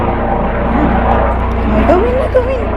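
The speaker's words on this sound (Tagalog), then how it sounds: "It's the helicopter." A helicopter flies overhead with a steady, low rotor thump that stays constant throughout, while people talk over it.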